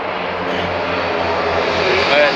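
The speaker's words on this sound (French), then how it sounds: "Il est incroyable, vous allez voir que l'avion il monte." Small green and white propeller plane taking off at an airport in Nepal, a loud steady engine roar that builds slightly toward the end, heard up close with voices faintly mixed in.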